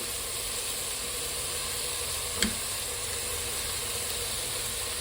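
Ginger garlic paste frying in a pan, a steady low sizzle that runs without break, with one brief clink of a utensil partway through.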